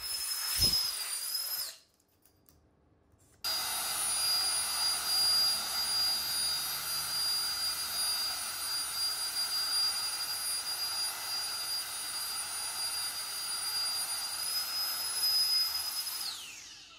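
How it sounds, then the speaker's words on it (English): An electric ducted fan on a monocopter test rig, hung from a string, screams with a loud, high whine and roaring rush of air, cutting out for about two seconds before spinning back up and holding steady. "I hung it up on a string and let the EDF rip from there"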